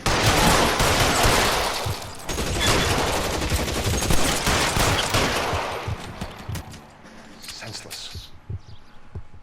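Gunfire in the L.A. Noire video game, a dense rapid volley of shots that thins out and fades to scattered cracks, with voices speaking over it.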